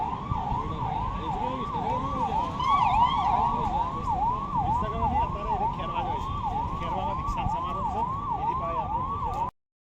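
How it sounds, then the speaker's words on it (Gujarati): Police car siren in a convoy, a loud wailing siren cycling rapidly and evenly for about nine seconds over road noise before cutting off abruptly. "ચલો જોઈ લો પોલીસની ગાડી છે"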